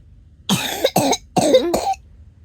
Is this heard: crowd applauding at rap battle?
no